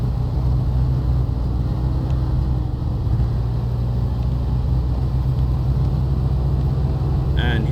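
An off-road truck's engine drones loud and steady while climbing a steep passage, heavy low rumble throughout with the motor laboring under load; a brief higher clatter near the end.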